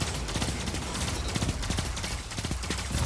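Rapid pulse rifle gunfire in a video game rattles in quick, dense bursts throughout, loud and continuous with sharp repeated cracks over a constant noisy backdrop.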